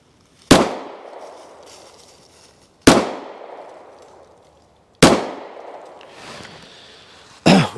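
A Chinese-made CZ 75 9x19 pistol fires single loud, close shots about two seconds apart, each with a long echoing tail, three full reports and a fourth cut off at the end.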